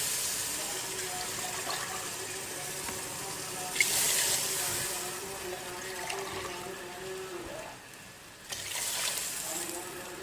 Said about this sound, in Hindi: हम इसके अंदर 4 गिलास पानी डालेंगे